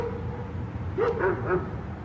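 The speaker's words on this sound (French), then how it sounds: "Les chiens n'arrêtent pas d'aboyer." Dogs on a farm at night give a few short, distant barks and yips in quick succession over a steady low rumble of background noise.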